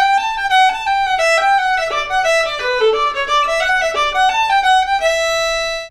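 Solo fiddle plays the start of the Arkansas Traveler B section with slurred bowing, notes linked in smooth connected groups instead of separate strokes, close and clear, finishing on a sustained note.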